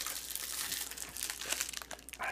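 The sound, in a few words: unwrapping a Hot Pocket from its plastic pack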